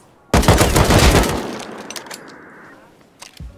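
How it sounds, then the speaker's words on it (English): A loud, close burst of gunfire cracks out in a multiplayer video game, with rapid shots and breaking debris for about a second, then a long echoing tail and a few faint later sounds. "They're shooting from the China wall, I think."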